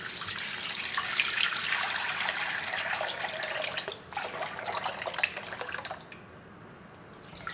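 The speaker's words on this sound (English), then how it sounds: "I will pour this broth into here." Radish kimchi broth pours through a cotton cloth strainer, a steady close trickling and splashing that thins out toward the end into lighter drips.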